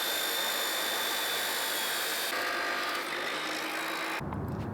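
A saw cuts through the muffler-delete exhaust pipe on a turbocharged Mini Cooper S R56, a steady loud grinding roar running throughout and shifting tone near the end.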